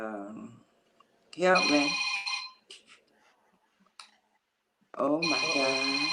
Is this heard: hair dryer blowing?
no